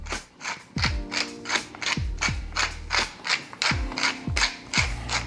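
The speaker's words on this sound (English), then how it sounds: "And now we'll grind a little pepper." A hand pepper grinder being cranked while cooking a copycat Outback onion recipe, giving about ten rhythmic ratcheting, crunchy grinding turns close up with no talking.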